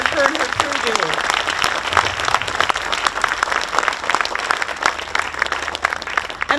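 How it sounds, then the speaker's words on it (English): Audience applause at an outdoor concert, steady clapping with some voices and cheers mixed in, continuing evenly throughout. "could we give her a round of applause for all the hard work her and her crew do?"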